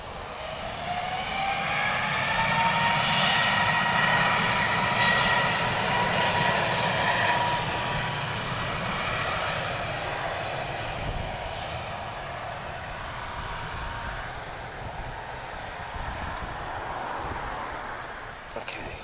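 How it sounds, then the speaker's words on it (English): An Airbus A321 long range airliner, inbound from New York, roars steadily at Lisbon Airport, a loud broad jet rumble with rising whine that slowly fades. "We've just got an A321 long range. He's inbound from New York."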